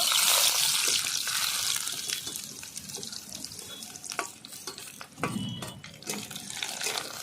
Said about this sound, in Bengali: ছোটো দুটো পেঁয়াজ আমি প্রথমে ভেজে নেব